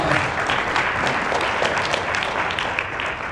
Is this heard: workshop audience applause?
yes